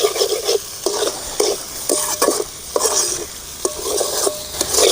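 Tomato chutney ingredients sautéed in oil for pumpkin chapathi, with a spoon repeatedly stirring through a steady sizzle in rhythmic scraping bursts, close and fairly loud, no talking.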